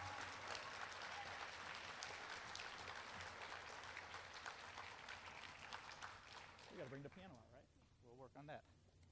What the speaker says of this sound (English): So how about a nice round of applause, please, for Mr. Fay, all his hard work.